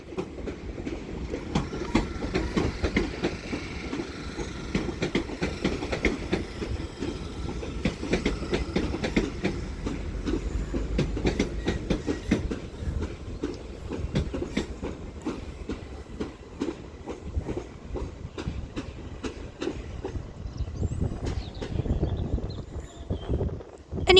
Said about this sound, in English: those double-headed Great Western Railway Class 387s depart Didcot Parkway now